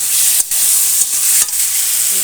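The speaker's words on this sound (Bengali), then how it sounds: "এখন আলুগুলো ভেজে নেবো জিরে আদা লঙ্কা বাটা দিয়ে দিলাম কষলাম" Potatoes frying in hot oil with cumin, ginger and chili paste give a loud, steady close sizzle, broken by a few quick stirring scrapes.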